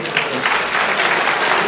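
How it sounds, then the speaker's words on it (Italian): Audience applause fills a gala hall, a steady, dense clapping from a large crowd that holds evenly throughout without any voices on top. "di Gigi Falco, un grande applauso."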